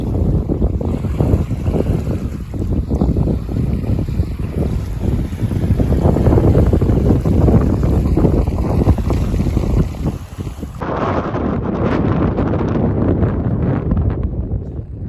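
Strong wind roars and buffets the microphone in continuous loud gusts at a bridge over Mangla Dam water in Mirpur, easing slightly near the end.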